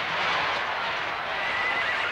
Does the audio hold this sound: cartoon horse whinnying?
yes